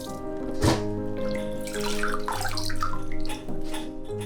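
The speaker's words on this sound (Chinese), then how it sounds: "用淘米水洗蔬果，温和地带走尘土和农药残留。" Vegetables and fruit washed by hand in a basin of rice-rinsing water: steady close splashing and water movement with a gentle swish, running continuously without talking.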